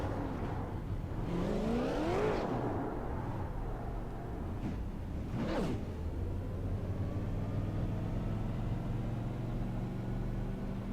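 A super late model race car, the 65 machine, rolls down the front stretch of an oval track at a Super Late Model Series race at the Milwaukee Mile, a steady engine drone with a couple of rising whine sweeps, heard from a distance.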